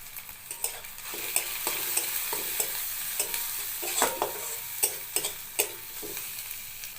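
Tomato and onion frying in a pan, a continuous close sizzle broken by a regular series of scraping stirs and spoon knocks, about one every half second.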